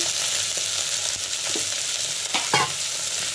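Cut brinjal frying in a pan for a curry, a continuous close sizzle with scattered clinks and scrapes from stirring, one louder clatter near the end.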